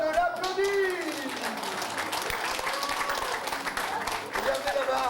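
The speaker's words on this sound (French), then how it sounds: "je vous demande de l'applaudir." An audience at a clown show in a care home applauding, a continuous wash of clapping with voices and cheering mixed in over the whole stretch.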